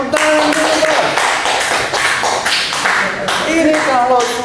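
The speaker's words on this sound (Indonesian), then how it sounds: "Tepuk tangan dulu, Bang." A small group claps in an office, brisk uneven hand claps close by with voices talking and laughing over them.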